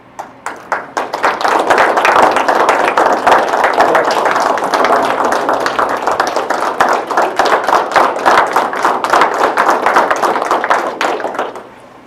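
Applause fills a school board meeting room, starting with a few scattered claps, then swelling into dense, loud, sustained clapping from the audience for about ten seconds before tapering off to a few final claps.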